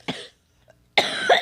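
Two short, harsh coughs close up, the second longer and raspier, during a 60-second smoking countdown challenge.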